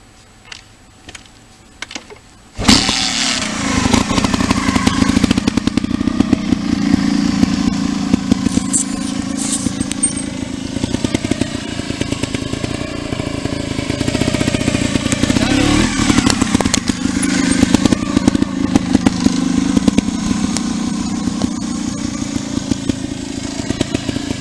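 A trial motorcycle engine starts abruptly after a quiet moment and then runs loudly and continuously, its revs rising and falling as the rider brakes with the clutch and lifts the bike.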